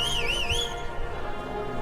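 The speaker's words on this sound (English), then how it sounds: "I gotta learn how to whistle like that." A loud, warbling whistle wavers up and down for about half a second over a steady din at a high school band battle, then drops away beneath the continuing background noise.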